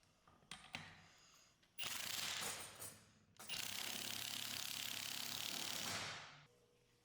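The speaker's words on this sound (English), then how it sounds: "Place the large washer and nut onto the shaft and tighten it down." A power ratchet or impact tool tightening the nut on a 2019-2023 Ford Ranger driveshaft flange, with a few metallic clicks and then two loud, close, sustained mechanical whirring bursts.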